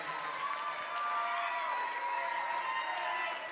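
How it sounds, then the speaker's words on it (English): A crowd at an election watch party in Westlake applauds and cheers steadily for several seconds, a dense wash of clapping heard from within the room. "can we give my wife an amazing round of applause"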